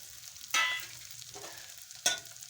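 Chopped dill leaves fry in hot oil, a low background sizzle with two louder bursts of hissing and scraping as the greens are stirred, close by.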